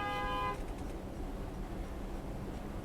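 A short, loud horn honk from a black truck sounds at the very start, then cuts off, leaving steady New York City area traffic and engine rumble.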